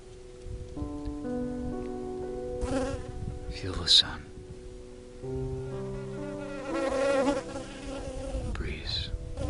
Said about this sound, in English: Maybe you still hear the bee.